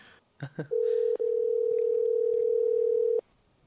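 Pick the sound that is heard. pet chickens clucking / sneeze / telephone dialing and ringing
telephone dialing and ringing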